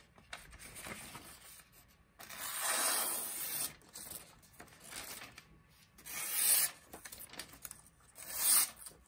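A Shun Premier knife with a Tsuchime hammered finish in VG Max steel slices through paper in several separate passes, each a close, dry rasping swish with quiet pauses between.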